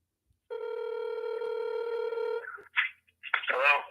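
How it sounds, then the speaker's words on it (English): A steady phone line tone sounds for about two seconds as a phone call is placed, then breaks into short bursts as a voice answers on the line. "Let me see if I get this person on the phone."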